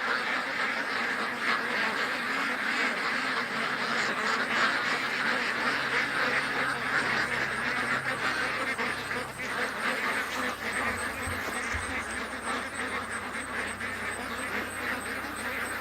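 Ducks quack steadily in an outdoor pen among many other ducks, with dense overlapping calls and broad background noise that continue throughout, no one speaking.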